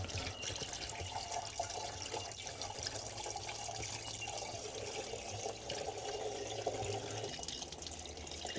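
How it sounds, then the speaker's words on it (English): Plain water trickles steadily into the radiator tank of an old Ford fire truck that has sat unused for years, a soft continuous pour with faint splashing, close by and with no talk. "I'll get some water and trickle into her. Just plain water, no coolant or anything like that."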